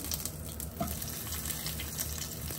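Halved pak choi sears in a hot pan, giving a steady close sizzle and hiss that stays at an even level throughout.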